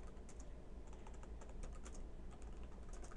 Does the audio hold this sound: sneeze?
no